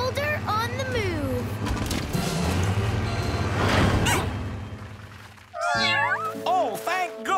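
Cartoon cats from PAW Patrol meowing in a bright, high-pitched chorus near the end, after a stretch of loud rumbling and crashing from a boulder on the move, with character voices talking over the scene.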